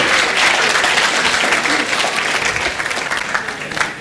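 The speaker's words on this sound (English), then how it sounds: "Let's get a round of applause." A hackathon opening-ceremony crowd at Hack Arizona breaks into loud, sustained applause, with a cheer or two rising from the packed room and the clapping thinning slightly toward the end.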